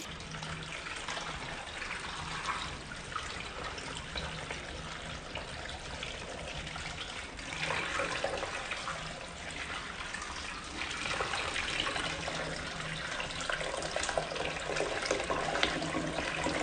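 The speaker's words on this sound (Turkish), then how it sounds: "2 litre suyumu da güzelce çayımın içine koyuyorum." Two litres of water poured into a pot with detox tea ingredients such as apple, a steady trickling, splashing flow that runs continuously and swells slightly in the latter half, close and alone without speech.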